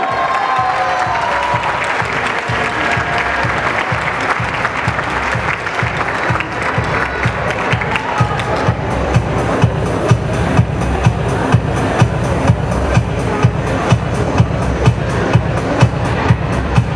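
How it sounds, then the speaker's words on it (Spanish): A crowd at the Señorita Feria de las Constituciones pageant in Zitácuaro applauds the third-place winner, with loud, continuous clapping and some cheering that runs throughout and turns sharper and more percussive in the later half. "un aplauso para ella, por favor"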